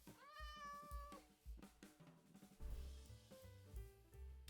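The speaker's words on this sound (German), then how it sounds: "Das ist eine Katze." A cat in a video game meows several times in short, clear, tonal calls, quiet and close, with soft game background sounds and no talking.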